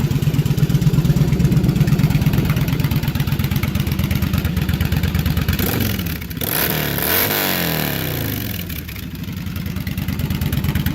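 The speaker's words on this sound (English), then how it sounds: "Doesn't idle terribly loud with I think it's because it's the factory header pipes" A 2008 Yamaha V Star motorcycle with a homemade exhaust on factory header pipes idles steadily nearby, a fairly loud, even pulsing rumble with a brief dip in the middle.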